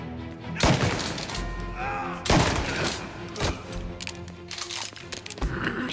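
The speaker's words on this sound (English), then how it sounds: "I can't see where I'm shooting." Gunfire from Mafia Definitive Edition: several sharp, loud shots crack out at irregular intervals against a steady background of game noise and engine hum.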